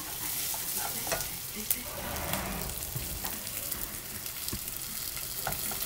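Vegetables sauté in a pan for acorn squash soup, giving a close, steady sizzle and crackle with scattered small pops and the occasional stir or utensil tap, and nobody talking over it.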